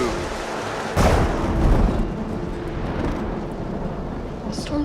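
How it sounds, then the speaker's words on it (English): A sudden loud thunderclap breaks over steady rainfall, then rolls into a low rumble while the rain keeps hissing. "The storm's getting worse."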